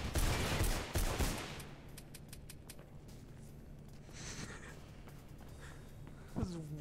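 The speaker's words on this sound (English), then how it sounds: "it just shot off like a million bullets" Gunfire in the game Mirror's Edge, a fast, loud burst of many rounds at the start, then scattered faint shots and a low hum, with a brief vocal sound near the end.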